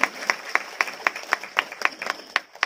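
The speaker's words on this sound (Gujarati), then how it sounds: "આપણે સૌ તાળીઓના ગળગળાટથી વધાવી લઈશું" An audience claps in a sharp, regular rhythm to honour a woman being recognised at an award ceremony, with distinct, loud claps repeating evenly throughout.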